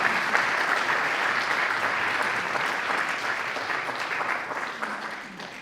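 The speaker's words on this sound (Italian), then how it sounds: "un applauso a tutta la parte organizzativa e tecnica" At an Italian amateur theatre World Theatre Day event, a seated audience gives a dense, continuous round of applause for the organising and technical crew, fading slightly toward the end.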